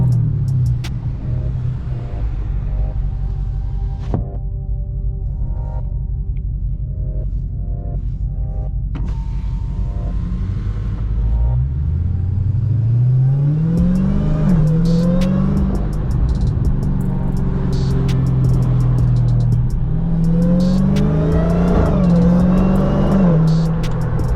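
A loud Dodge car engine idles with a deep rumble, then revs hard repeatedly, the pitch climbing and falling in strong surges.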